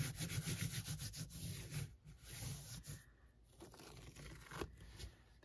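Paper rubbed by hand against a paint-covered gelli printing plate fitted with a paper-weaving texture plate: soft, continuous scraping strokes, quiet and close, with short pauses between passes.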